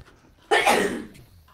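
A single sharp sneeze bursts out close to the microphone after a quiet moment, then trails off quickly.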